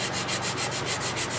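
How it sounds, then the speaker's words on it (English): Steady back-and-forth scratchy rasping of 100-grit sandpaper worked by hand over a woodturned vase, in rhythmic strokes, close up with no talking. "So I'm sanding this a lot of this by hand."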